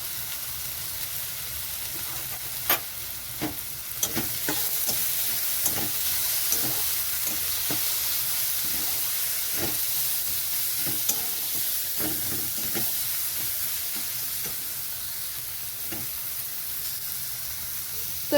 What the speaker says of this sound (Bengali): তো এখানে মশলাটা কষানো হয়ে গেছে